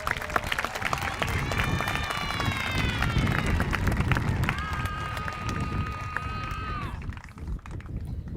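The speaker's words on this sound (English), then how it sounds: "let's recognize Miss Gaffney's home with a round of applause." Round of applause for Miss Gaffney's homeroom at an eighth-grade promotion ceremony, heard as sustained crowd clapping with cheering and whistles over it, fading toward the end.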